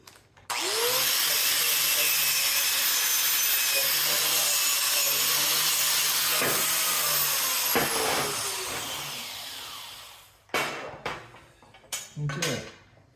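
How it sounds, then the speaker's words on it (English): A power tool grinds paint off the weld area of a car trailer's angled section. The steady, loud abrasive whine runs for about ten seconds and then breaks into a few short bursts near the end. "I have to take a little bit more paint off of there."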